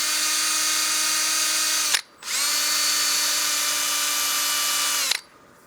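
Wood lathe spinning a bowl blank with Easy Wood Tools cutters, a loud steady tonal whine that cuts out briefly, restarts, then winds down near the end, with no talking.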